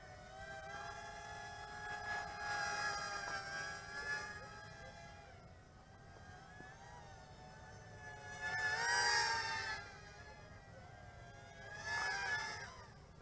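A Ji Fun 85x brushed-motor F3 mini RC racer runs with a thin electric whine that rises and falls in pitch as the throttle surges and eases. It comes through faintly, with no voices.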